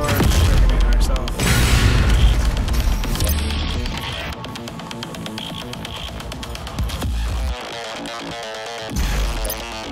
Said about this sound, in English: I'm just gonna throw a grenade up in here.